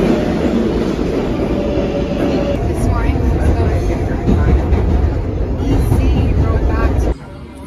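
A train rolls along rails with a loud, continuous rumble and clattering wheels. Faint voices sit underneath, and the sound drops sharply just before the end.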